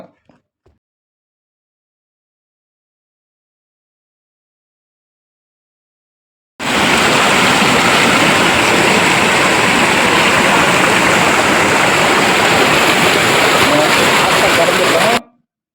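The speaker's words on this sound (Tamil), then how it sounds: "நம்ம அடுத்தது சிற்றருவி பார்க்க போகிறோம் தண்ணி அதிகமாக வந்துட்டுருக்கு" A small waterfall (sitraruvi) in the Kollimalai hills running with heavy water flow: after several seconds of near silence, a loud, steady rushing roar starts abruptly close by and continues unbroken before cutting off.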